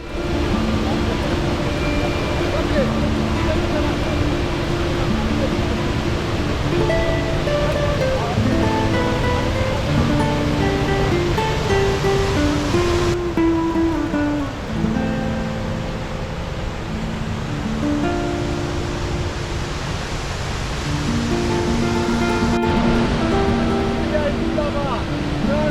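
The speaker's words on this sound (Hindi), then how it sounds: "तो ये है मकोली कास्केड, जहां पहुंचकर सब फोटोग्राफी और वीडियोग्राफी में मसरूफ़ हो गए।" Makooli cascade, a mountain waterfall of milky white water, roars steadily as a broad continuous rush, with people talking over it and some tonal sound laid on top.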